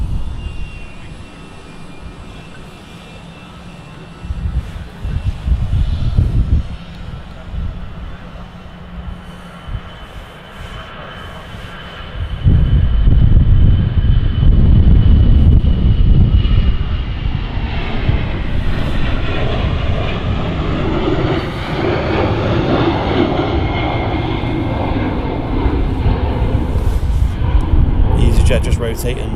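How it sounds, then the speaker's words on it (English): Airbus A320 jet engines at Manchester Airport, a roar that swells sharply partway through into a loud, sustained rumble with a whining tone as the aircraft powers up, with a person talking over it at times. "I can always tell an A320 when it's flying."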